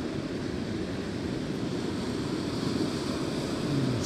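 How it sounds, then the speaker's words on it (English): Ocean surf rumbles in a steady, continuous wash with a soft windy hiss, without distinct wave breaks, heard alone and at moderate distance. "Sounds of the ocean."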